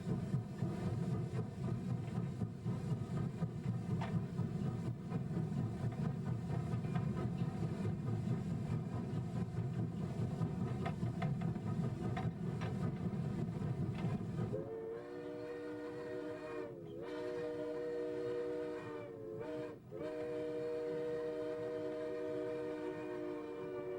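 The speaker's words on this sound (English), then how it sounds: "By balancing the throttle, steam cutoff, and air brakes, the engineer soon has the train up to speed." A steam locomotive on a heritage railway pulls its train up to speed, a dense rolling chug and rumble filling the first stretch before giving way to a steadier tone broken by several brief whistle-like gaps, loud and continuous throughout.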